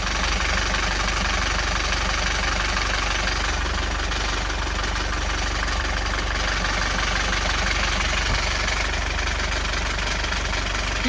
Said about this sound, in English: So I'm going to start up the engine in neutral again